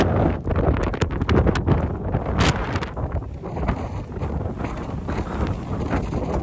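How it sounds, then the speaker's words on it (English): Strong gusts batter the microphone on an exposed fell in whiteout conditions during a Bob Graham Round Leg 2 recce. The roar is heavy and continuous with sharp, buffeting thumps, close and loud, with no speech. "Still getting the odd gust."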